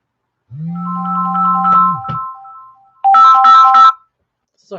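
Phone ringtone from an incoming call, a low sustained buzz tone followed by bright, bell-like electronic chimes in short repeating bursts, loud and close, with brief sounds at the end.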